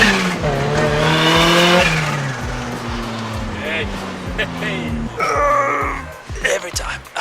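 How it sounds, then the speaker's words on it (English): A turbocharged Mazda MX-5 being driven, its engine droning and shifting pitch with a rising turbo whine, while people talk over it from inside the car. "You can literally hear the turbo spool."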